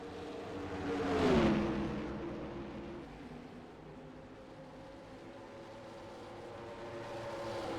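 A NASCAR stock car in the NR2003 racing game slows into the pit lane at Darlington. Its engine swells briefly, then settles into a faint, steady low drone in the distance.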